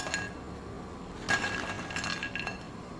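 Crispy fried potato pakoras are shaken and handled in a strainer, giving a few light, scattered clinks and crunchy rattles in quick bursts, fairly faint and close, with no talking.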